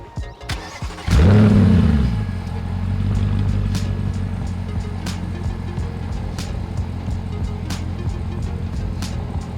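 A straight-piped Audi S7 barks to life with a sharp, loud burst, then settles into a deep, rumbling idle that stays steady and close, with small ticks over it and no talking.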